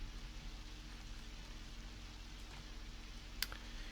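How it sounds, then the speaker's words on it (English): Soft, steady rain patters in the underground setting of the Undertale video game, a faint continuous hiss with a low hum beneath and one brief sharp click near the end. "I don't know how it can rain underground, but it can apparently."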